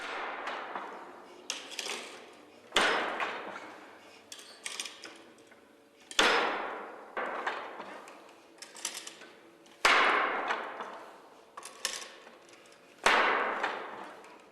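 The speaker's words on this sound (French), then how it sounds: "Ce métier à tisser est pourvu de 4 lames." A four-shaft weaving loom works at a steady pace, giving sharp wooden thuds about every three seconds with lighter clacks and rattles between them, close and moderately loud.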